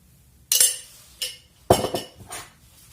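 Spoon clinking against a bowl while stirring a spoonful of mayonnaise into rice, three separate close, bright scrapes and knocks with short quiet gaps between them.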